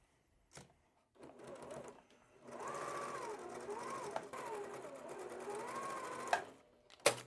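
Sewing machine stitching a quilt column runs in steady bursts up close, starting after a brief pause and continuing for several seconds, with a few clicks at the end.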